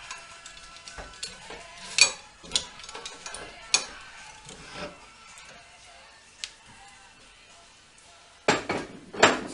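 A 3-jaw chuck is taken off a metal lathe and a 4-jaw chuck fitted in its place. Scattered metallic clanks, scrapes and clinks come close by, with a louder cluster of knocks near the end.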